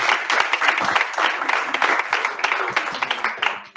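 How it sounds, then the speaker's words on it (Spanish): An audience applauds at the close of a gastronomy talk: dense, steady clapping from a crowd fills the room throughout, thinning slightly at the very end. "Pues un aplauso, por favor."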